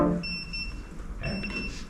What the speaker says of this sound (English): That timer goes off,